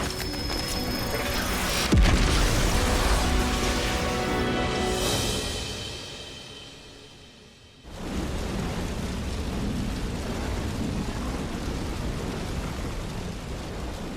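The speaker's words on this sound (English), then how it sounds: "Now that was an explosion." A big explosion in Xenoblade Chronicles 3 hits with a sharp boom, then a long rumbling roar that slowly fades to near quiet before a steady hiss of debris or ambience swells back in.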